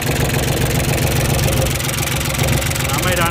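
A used Japanese farm tractor engine idles steadily close by, a continuous low chugging rumble with a fast regular beat that holds even loudness throughout.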